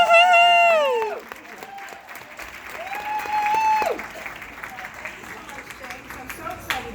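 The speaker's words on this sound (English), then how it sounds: "please give her a big, warm round of applause, ladies and gentlemen" An audience at a Walt Disney Archives throwback screening at the El Capitan Theatre in Hollywood applauds to welcome Becky Cline, a loud burst of clapping that thins into lighter scattered claps, with a voice speaking over the start.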